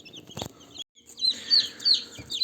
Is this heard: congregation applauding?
no